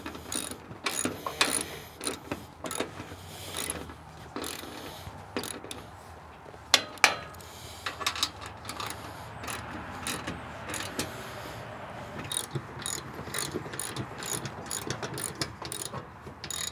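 Ratchet straps cinched down on a roof rack and ladder atop a Sprinter van, a long run of rapid clicking ratchet pawls in uneven bursts, fairly close and crisp, with no talking.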